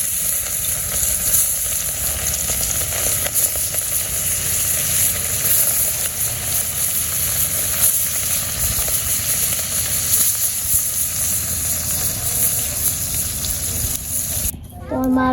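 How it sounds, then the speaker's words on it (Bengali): Fish frying in hot oil in a wok in a village kitchen gives a loud, steady, close sizzle and crackle that holds evenly for the whole stretch, cut off at the very end by a brief different sound. "তেল গরম হয়ে গেছে, মাছগুলো দিয়ে দিই।"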